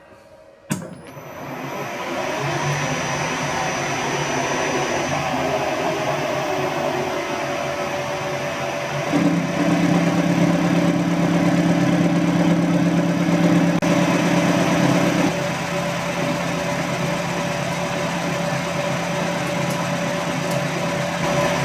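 A powered lathe slotter running in gear gives a continuous, steady mechanical hum. Its tone shifts and strengthens partway through, then settles back to an even drone with no talking.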